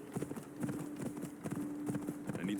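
A horse in Assassin's Creed Odyssey clip-clops in a quick, even rhythm of close hoofbeats, with a voice faintly underneath.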